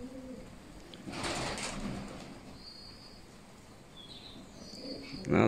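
Faint pigeon calls in a quiet outdoor setting, a few soft coos and brief chirps with a rustling burst at the start and a thump at the end.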